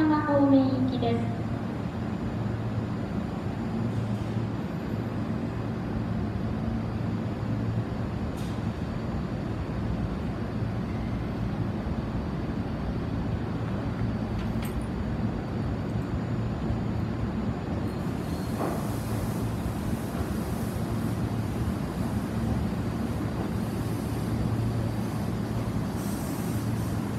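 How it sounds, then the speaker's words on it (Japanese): Electric train pulling into platform 2 of Matsuyama City station in Japan during the weekday morning rush, a steady low rumble and rolling drone that holds the whole time, with faint squeals and clanks above it and no talk. "まもなく2番線に到着の電車は高浜方面行きです。"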